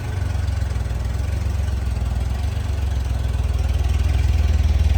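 A 1994 Honda Goldwing 1500 Aspencade motorcycle idles steadily on a carburetor with no choke, a continuous low engine rumble with a slightly rising and falling idle throughout, close and loud, with no talking.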